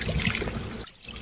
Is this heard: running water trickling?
yes